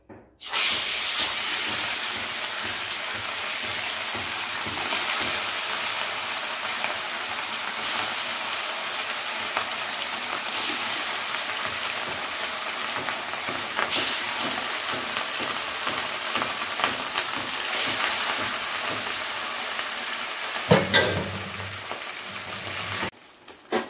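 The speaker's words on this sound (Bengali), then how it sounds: "তো এখন আমি তেলের মধ্যে মাছগুলোকে দিয়ে দেবো।" Rohu fish pieces fry in very hot mustard oil, giving a loud, steady hiss and crackling sizzle throughout, with a brief lower clatter near the end.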